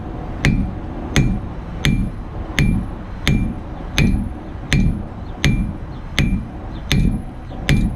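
Hammer blows on hot steel forging a knife blade at a blacksmith shop, about a dozen sharp ringing strikes in a steady rhythm roughly every 0.7 seconds, loud and close with no talk.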